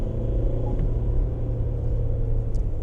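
A 2026 GWM Tank 300 with a 2.4 litre diesel engine accelerating, a steady low rumbling drone heard from inside the cabin, fairly loud and even throughout without any talking.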